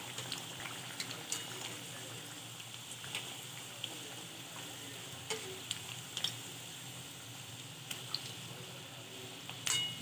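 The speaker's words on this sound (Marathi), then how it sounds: "मिडियम हीटवर आपण सर्व कचोरी तळून घेणार आहे" Kachori frying in oil over medium heat, a soft continuous sizzle with scattered crackles and pops throughout, fairly quiet and with no voices.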